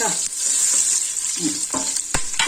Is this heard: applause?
no